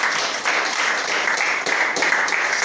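Applause from a gathered crowd of youths in Foya District, cheering on girls' football teams, a dense steady clapping that runs throughout at moderate loudness with a brief dip partway.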